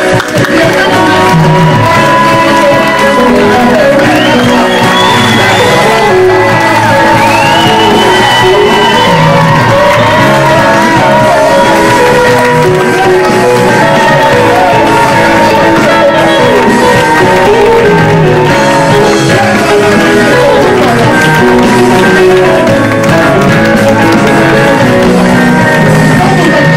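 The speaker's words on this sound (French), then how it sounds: "Dans les acclamations, il y a des applaudissements." A church congregation cheering and acclaiming in worship, a loud sustained wall of shouts, whoops and yells from many voices that continues without pause for nearly half a minute.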